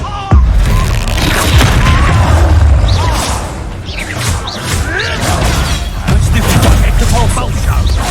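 An Expulso blast spell in Hogwarts Legacy produces a sudden booming explosion with crashing, shattering debris. Combat noise and a voice follow it over several seconds.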